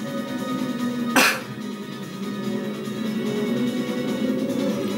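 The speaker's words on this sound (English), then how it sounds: "He's sneezing." A single sharp sneeze from the whale Monstro in the Kingdom Hearts video game, loud and sudden against a steady game soundtrack, then fading back into the background music.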